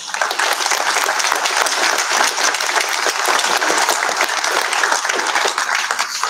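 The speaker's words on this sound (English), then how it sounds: "Now, we all gave Caleb a big round of applause because he sang so well earlier on." A church congregation at a Christmas lessons and carols service applauds a young singer named Caleb, dense continuous clapping filling the room at full volume for several seconds without letting up.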